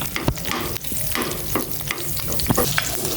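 Garlic sautéing in a hot pan, a steady dense sizzle with repeated scrapes and clacks of a utensil stirring, close and fairly loud throughout.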